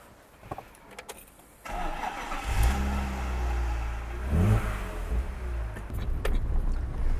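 A BMW M3 E30 Alpina Touring car starts up after a few faint clicks, then its engine settles into a loud, rough idle and revs up as it drives off, with the rumble swelling and easing.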